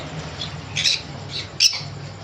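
Yellow-sided conure parrots in a bird shop give two short, sharp squawks over a low steady background hum.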